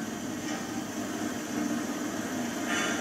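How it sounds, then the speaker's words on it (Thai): Two long-tail boat engines drive an amphibious car across water, giving a steady, dense droning rumble with constant noise, moderately loud and unbroken throughout. "ตอนนี้รถไม่ได้ทำงานนะครับ เดินด้วยเรือหางยาวเนี่ยครับสองเครื่อง"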